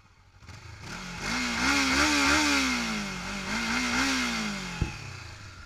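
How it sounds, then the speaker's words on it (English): Stock-exhaust Honda CBR500 motorcycle engine revving up and settling, a steady mid-pitched drone with rising and falling tones over about five seconds, close and fairly loud, with a sharp click near the end. "Yep, that's your stock exhaust. That's your stock CBR500."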